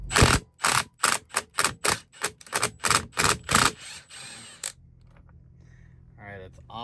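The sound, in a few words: 1-inch impact wrench removing truck steering wheel nut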